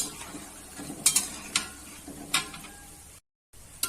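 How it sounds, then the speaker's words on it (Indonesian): Garpu crackers fry in hot oil while being stirred, with a soft steady sizzle beneath intermittent scraping and clinking of a utensil against the pan. "Ini kita goreng sampai berwarna coklat."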